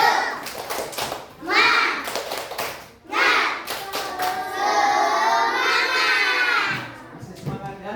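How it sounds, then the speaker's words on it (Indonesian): A classroom group of students claps a rhythmic cheer in quick bursts of patterned hand claps, close and loud, mixed with children's shouting and voices. "coba tepuk semangatnya lagi"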